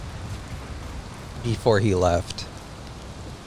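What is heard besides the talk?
torrential rain in the video game Valheim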